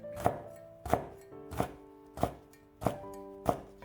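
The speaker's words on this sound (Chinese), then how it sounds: "再准备几个小米辣，切成圈。" Knife chopping small fresh chili peppers into rings on a cutting board, six evenly spaced sharp thunks, close and clear with no talking.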